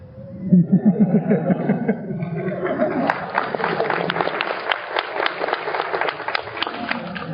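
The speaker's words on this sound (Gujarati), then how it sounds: "મને લાગે તાળી પાડી છે" A voice speaks over a low murmur, then a crowd of about 650 devotees at a BAPS religious discourse breaks into steady, dense applause that keeps going to the end.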